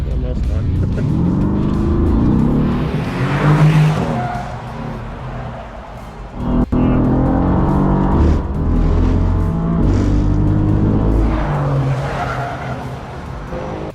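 A race car driven fast around a track by Lewis Hamilton roars and skids continuously, tires squealing with loud engine surges and a sharp crack midway, while people talk over the noise.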